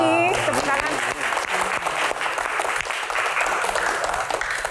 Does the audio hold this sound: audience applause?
yes